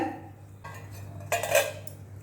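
A metal lid clatters onto a cooking pot of cluster beans simmering with turmeric, two sharp clinks close by over a low steady background, with no talking.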